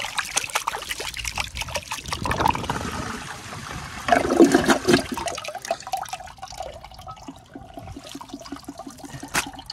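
1920 Standard ejecto toilet flushing, a close rushing gurgle of water that swells for several seconds then drains away into trickles and drips, with no talk.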